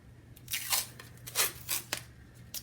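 Tape being torn and pressed down over fabric on an embroidery hoop project: several short crackling rips and rustles in quick succession, close and quiet, with no talking.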